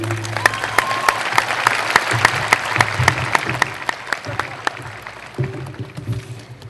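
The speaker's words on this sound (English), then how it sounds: "Nice round of applause for Mary." Graduation ceremony audience applauding for a senior class vice president, a dense, steady clatter of many hands clapping for several seconds, with sharp individual claps standing out and the applause thinning slightly toward the end.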